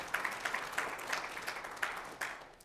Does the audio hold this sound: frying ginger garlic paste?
no